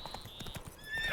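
Roach, the horse in The Witcher 3, gallops with steady rapid hoofbeats, a neigh rising near the end over game music; no talking.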